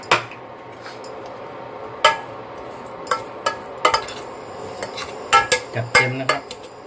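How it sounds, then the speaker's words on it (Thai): Curry paste, shallots and pork stir-fry in a pan, a metal spatula clanking and scraping the pan in irregular sharp knocks over a faint sizzle, with no talk. "นำพริกแกงเข้าไปผัดก่อนครับ ใส้หอมนิดนึง แล้วก็ใส่หมู ผัดด้วย ครับ"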